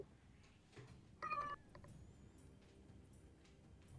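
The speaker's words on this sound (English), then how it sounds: "I don't know if you heard my cat scream in response" A house cat lets out one short, sharp scream, a brief loud yowl rising above a quiet room with faint background noise.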